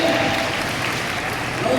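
Applause from an audience at a chapter gathering in Ilocos Norte, a dense steady patter of many hands holding at an even level throughout.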